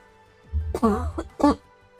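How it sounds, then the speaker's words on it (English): Two rough coughs, close by, a short pause between them, over a low steady hum in a quiet room. "That is not a good cough."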